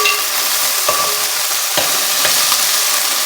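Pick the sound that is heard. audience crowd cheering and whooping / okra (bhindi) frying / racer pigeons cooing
okra (bhindi) frying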